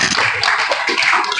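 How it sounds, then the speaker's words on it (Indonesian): An audience at a school computer networking session claps in a brief burst of dense, continuous applause. "Tepuk tangan dulu."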